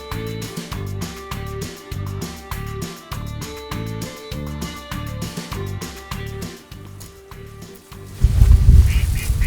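Ducks quack in a steady, rapid rhythm, close and fairly loud, with a burst of rougher noise near the end, during a duck hunt in North Dakota.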